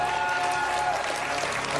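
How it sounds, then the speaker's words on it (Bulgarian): A studio audience on the Bulgarian game show Who Wants to Be a Millionaire breaks into strong, sustained applause, a dense, loud, even wash of clapping filling the whole moment. "Силните аплодисменти прерастват в бурни овации"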